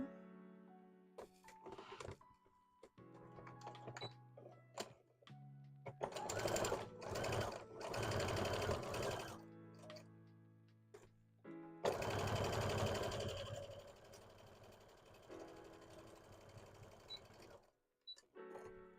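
An embroidery machine stitches spikes for a hat, running in fast, close mechanical bursts of rapid needle chatter separated by short pauses and stops.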